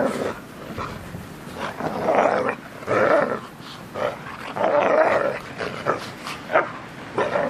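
A standard poodle growls and grumbles in repeated rough bursts while playing in snow, rising and falling, close by, with no talking.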